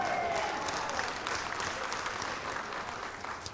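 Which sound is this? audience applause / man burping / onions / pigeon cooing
audience applause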